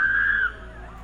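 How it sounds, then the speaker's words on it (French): A woman's high, strained cry picked up by a doorbell camera outdoors, loud for the first half second and then dropping to a fainter tail, with no other voices. "Captured on her doorbell camera are the sounds of a woman crying out for help."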